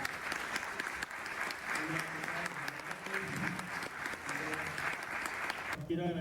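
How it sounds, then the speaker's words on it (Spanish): At a UFO congress, an audience claps for an invited lecturer: crisp, quiet, distant applause holding steady for several seconds, with a voice speaking over it before it stops abruptly. "brindémosles un gran aplauso al doctor Diego Escolar"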